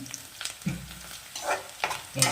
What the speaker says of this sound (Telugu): కొన్ని నిమిషాలు కొద్దిసేపు వేగనిద్దాం